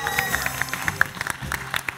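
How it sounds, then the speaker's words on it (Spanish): Studio audience applause on a televised game show, a short patter of clapping at moderate distance mixed with light crowd noise. "un aplauso para mi amigo Remy"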